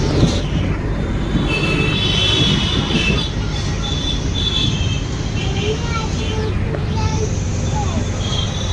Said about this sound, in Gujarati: આટલી મોટી ટ્રેન છે